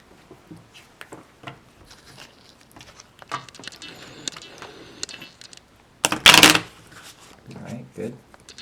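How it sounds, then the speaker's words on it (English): A regular deck of playing cards being shuffled indoors, a sharp, loud burst of riffling cards lasting about half a second, surrounded by quieter handling, rustling and soft clicks, with people talking nearby. "have here a regular deck of cards, and Liz, I'm going to have you just shuffle those."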